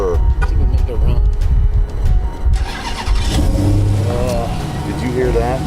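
A 707-horsepower muscle car engine cranks, starts and revs loudly with deep rumbling bursts, while people talk over and around it.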